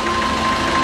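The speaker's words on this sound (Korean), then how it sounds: "트럭 엔진으로 움직이는 케이블카는 생각보다 빨랐습니다." A truck engine powering a cable car in the Philippines drones steadily at close range, a constant mid-pitched idle hum with faint mechanical vibration and no voices.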